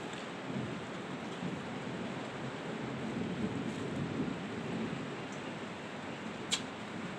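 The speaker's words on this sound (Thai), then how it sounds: "ฟ้าร้องนะ" Thunder rumbles low and steady beneath continuous rain falling outdoors, a broad wash of storm noise with one brief sharper crack near the end; no voices.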